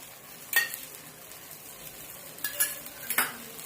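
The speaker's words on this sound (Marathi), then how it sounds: "सगळीकडनं आपण तेल टाकून घेऊया" Oil drizzled around a potato pancake (dhirde) on a pan hisses quietly close by, with a few sharp crackling bursts as it hits the hot surface.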